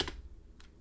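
Two quick keystrokes on a computer keyboard, a sharp click followed by a softer one about half a second later, close and quiet.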